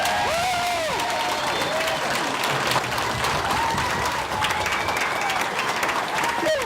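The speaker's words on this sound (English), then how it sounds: "That applause came at the moment that the abort system and crew module successfully detached." Lockheed Martin engineers applaud and cheer as the Orion abort system and crew module detach during a test, a sustained, dense wash of clapping from a large group with some voices and whistles mixed in.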